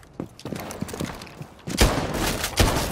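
Loud bursts of gunfire from a tactical shooter game, with sharp shots breaking out near the two-second mark and again toward the end over a busy background of game sounds.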